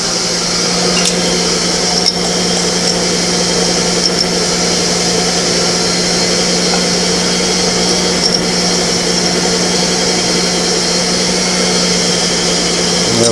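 An electric stand mixer kneads baguette dough, giving a steady, loud motor drone with a constant hum and faint rhythmic knocks, continuous throughout with no talking.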